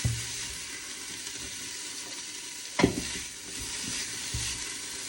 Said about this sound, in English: I don't need to put that in here and saute that with this right now